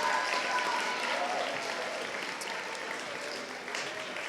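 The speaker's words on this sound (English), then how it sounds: "So big applause for Mr. Sean Anderson, our band instructor." Steady applause from a large crowd at a school band festival, a dense wash of clapping that holds for several seconds and fades slightly toward the end.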